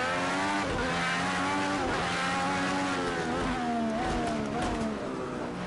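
An Indy race car engine in Project Cars 2 at Long Beach drones loudly and continuously through a lap, pitch rising and dipping with gear changes, with faint tire squeal.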